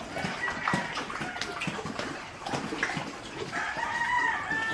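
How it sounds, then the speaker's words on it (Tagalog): Several hens cluck and call in a busy coop, with a rooster-like crow rising briefly among the steady, close flock noise. "mga inahin"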